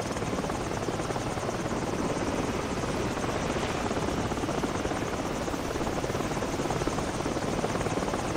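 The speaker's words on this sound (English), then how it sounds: "helicopter's making another pass." Loud, steady rotor thump and engine roar of a helicopter holding close overhead in Call of Duty 4: Modern Warfare, filling the whole stretch without letup.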